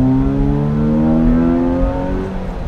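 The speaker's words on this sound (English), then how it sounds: "It sounds like an engine is just taking a deep breath and it revs out really smooth" A 2009 Chevy Cobalt LT engine revs loudly and smoothly, its pitch climbing steadily as it accelerates, then easing off near the end; no voices.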